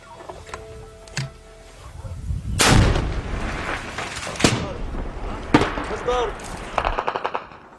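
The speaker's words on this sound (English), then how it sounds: "They're to start it by firing the heaviest weapons in their arsenal, even though they have just 2 of them." Heavy weapons opening fire in Syria: deep artillery booms and bursts of gunfire, some near and loud, others distant, rolling through the clip with scattered sharp reports.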